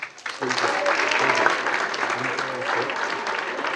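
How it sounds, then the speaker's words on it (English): A school Writers Week crowd applauds itself, with sustained, full clapping from many hands and faint voices mixed in beneath the applause. "Give yourselves a round of applause"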